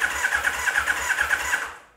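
A starter motor cranks a Yamaha XJR 1300 motorcycle engine with a fault on the fourth cylinder, giving a rapid rhythmic whirring with uneven compression pulses, close and clear, then winding down and stopping without starting.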